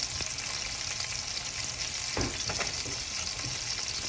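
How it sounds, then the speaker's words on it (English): Fries bubble and sizzle in a deep fryer, a steady crackling hiss with scattered pops, fairly quiet and uninterrupted, with no voices. "Got my fries on in a deep fryer."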